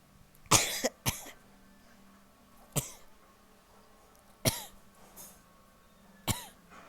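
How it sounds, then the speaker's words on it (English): A person coughs five times in separate sharp bursts, the first a quick double cough, spaced a second or two apart against a quiet background. "sorry, just a little coughing there."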